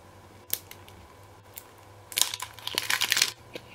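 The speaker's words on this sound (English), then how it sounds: "I'm just going to try to get through this plastic." Plastic wrap on a tea canister is cut and torn open, with scattered close snips and crinkles building into a dense burst of crackling plastic, then quieting, with no talking.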